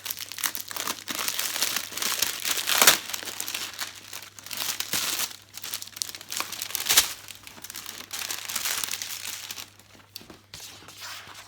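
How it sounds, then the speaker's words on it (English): Thick plastic wrapping is pulled off a jumper and crinkled close by, in loud rustling bursts with two sharp tearing crackles, then fading to quieter handling. "I'll take the plastic off."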